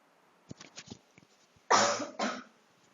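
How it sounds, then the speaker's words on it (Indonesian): Two harsh, close coughs in quick succession, preceded by faint mouth clicks and shuffling. "agak batuk ya tadi"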